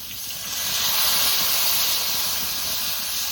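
Water poured into hot oil with fried hog plums (amra) for a fish sour curry, setting off a loud, steady steaming hiss that swells and holds for several seconds with no talk.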